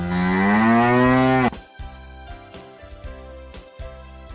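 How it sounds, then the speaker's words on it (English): A cartoon cow gives one long, loud, harmonic moo lasting about a second and a half, followed by bright, bouncy cartoon music. "A cow lives in a shed."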